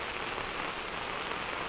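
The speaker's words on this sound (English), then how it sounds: "It's raining, David." Steady rain falls on a surface, a dense, even hiss of drops that stays constant throughout with no voices.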